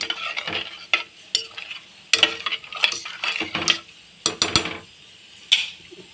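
A utensil scrapes and clinks around a pot of mutton pepper paya in irregular strokes, with a soft bubbling simmer underneath.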